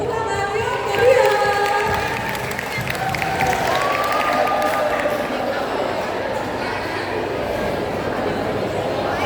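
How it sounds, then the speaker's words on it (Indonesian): A school festival crowd applauds and cheers for a class stage performance, with a broad wash of clapping, voices and chatter, a louder swell early on and then a sustained steady roar. "Beri tepuk tangan yang meriah."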